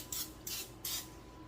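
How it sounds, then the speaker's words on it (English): Cooking spray hisses into a 9 by 13 casserole dish in three short, soft bursts, close and quiet. "here I have my 9 by 13 casserole dish. And we're going to give it a quick spray"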